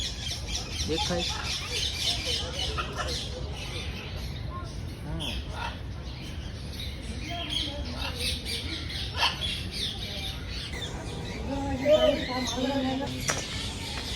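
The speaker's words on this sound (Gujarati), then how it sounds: "છે તો પોપટ જ છે." A parrot at Surat zoo squawks in scattered harsh calls over a busy outdoor background, while other birds chirp and people talk nearby.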